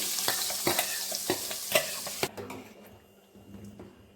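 Ground cashew masala paste sizzles and fries in a pan, with repeated sharp scraping taps from stirring that fade into a quieter, settling sizzle near the end.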